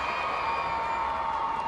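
A stadium crowd at a women's hockey match between Great Britain and Australia roars in a steady, dense wash of cheering and shouts that holds for under two seconds without any break.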